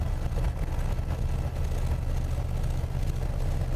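A loud, steady pickup truck engine drone fills the cabin while driving under 50 mph at about 2,000 revs, low rumble constant throughout with road noise and no talking.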